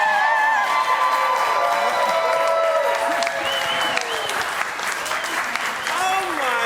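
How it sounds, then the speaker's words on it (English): Loud crowd cheering and clapping with whoops and shouts at San Diego Comic-Con, sustained throughout. "Cheer it out, guys."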